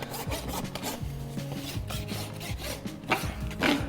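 A rasp files down a horse's bare hoof during a barefoot trim, giving steady, close scraping strokes in a continuous rough rhythm with no talking.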